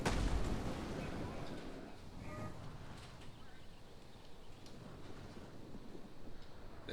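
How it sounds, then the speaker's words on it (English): Artillery bombardment from a Total War: Rome 2 battle, a steady dense rumble of distant cannon fire and impacts rolling on without pause, with no talk over it. "they're bombarding the hell out of my front, which is good"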